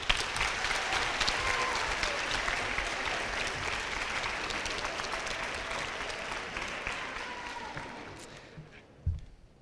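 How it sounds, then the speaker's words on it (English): Applause from an audience at an eighth grade school awards ceremony, a dense continuous clapping that holds steady for several seconds and then thins out and fades near the end. "All right, give them a round of applause."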